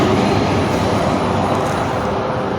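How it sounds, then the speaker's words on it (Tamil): A local train bound for Budapest rumbles loudly and steadily from inside the carriage, with a dense rolling rattle of wheels on track and no voices over it. "இப்போ அங்கேருந்து லோக்கல் ட்ரெயின் பிடிச்சி புத்தாபெஸ்ட் போகிறோம்"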